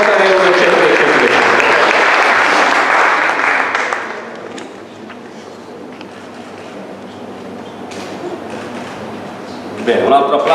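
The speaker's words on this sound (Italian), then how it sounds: "Applauso un po' più forte per Riccardo Mischioni" An audience applauds at the Città di Verona literary prize ceremony, with dense, loud clapping for about four seconds that thins to a low murmur of scattered claps and voices before swelling again briefly at the end.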